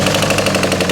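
A worn, high-mileage VW Caddy diesel engine turns over with a steady, rapid knocking rhythm, loud and close, with no voices over it.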